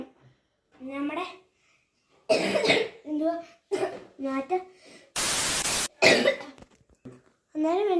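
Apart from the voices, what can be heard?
coughing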